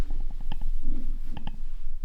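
A loud, close stomach rumble made of a rapid series of gurgling pops, a brief low growl, then a few more gurgles.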